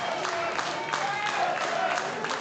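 A wrestling audience at a tag-team bout clamors with steady crowd noise and patches of clapping, a lively continuous din with a commentator talking over it.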